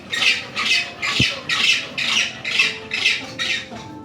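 Penguins at the Osaka Kaiyukan aquarium give harsh, grating squawks, seven or eight loud bursts in a steady rhythm, each about half a second long, sounding close.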